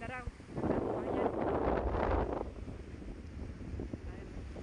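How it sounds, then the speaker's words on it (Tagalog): Strong wind at the seashore roars and buffets the microphone in a loud, rushing surge that eases off, with people talking underneath. "Grabe, lakas ang hangin sa tabing dagat talaga."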